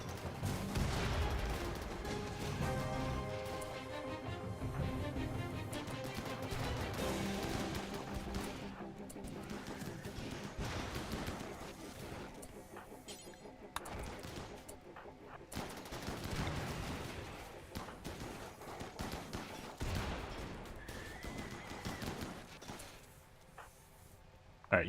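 Grenade explosions and bursts of gunfire from a RimWorld battle, a dense, continuous clatter of shots and blasts running the whole way, with sharper booms standing out among the steady firing.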